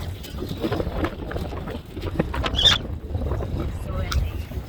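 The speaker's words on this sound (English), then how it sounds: "It's just so windy, guys." Gusty wind buffets the microphone in a low, constant rumble, with a person talking over it and faint outdoor movement.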